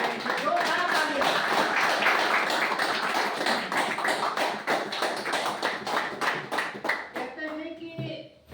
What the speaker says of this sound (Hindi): नए लोग पुरानों की लोग पुराने नए की जोरदार तालियां